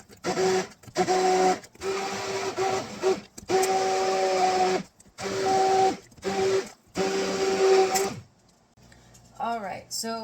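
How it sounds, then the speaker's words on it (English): A hand immersion blender whirs through tomato basil soup made with heirloom tomatoes in a series of short, loud motor bursts separated by brief pauses, followed by a quieter stretch at the end. "You're just going to blend everything until it's nice and smooth."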